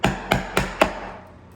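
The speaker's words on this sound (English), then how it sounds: "I'm gonna give it a light tap, and then all the way through" Mallet striking a chisel while cutting a dovetail, four sharp wooden taps at a steady, even pace, close and clear with no talking.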